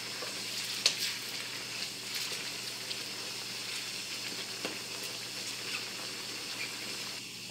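Squid simmering in its juices in a partly covered pan for calamari à la provençale, a steady quiet sizzle with scattered pops and spits of sputtering water, one sharper crackle early on.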